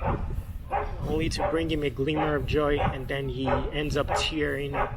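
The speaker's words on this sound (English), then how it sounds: "I apologize for that dog barking" A dog barks and yips repeatedly in short bursts while a person talks over it.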